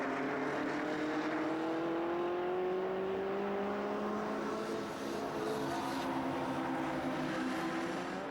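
Lotus race cars lapping Rockingham circuit, engines droning at a distance with rising and falling whining pitches as they accelerate and pass, a continuous moderate blur of several cars.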